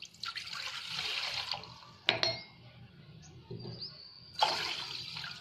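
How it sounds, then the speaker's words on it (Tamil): Water pours from a tumbler into a metal vessel while cooking Hyderabadi chicken mandi, two short pours with a clink of the tumbler against the pot between them and a final splash. "இதில் வந்து 2 டம்ளர் தண்ணி ஊற்றிக்கோங்க"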